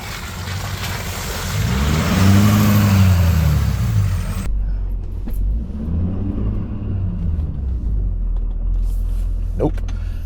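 A truck on BFGoodrich KO3 tires drives a slippery rain-soaked road in two-wheel drive, its engine rising and falling in a close, loud rumble with rushing road noise, and a voice speaks briefly over it.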